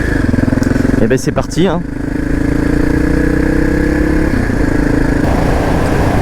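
A Suzuki 650 DRSE motorcycle engine idles loud and close with a steady throbbing rumble, a brief blip of throttle near the start, and someone speaking French over it.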